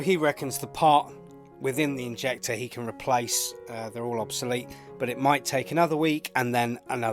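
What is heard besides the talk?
No distinct noise like a dog, phone or traffic.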